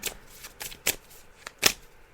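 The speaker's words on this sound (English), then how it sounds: "So I'm just shuffling the cards now, Steve." Tarot cards are shuffled by hand in a series of short, crisp riffling bursts, close and fairly quiet, with brief pauses between them and no talking.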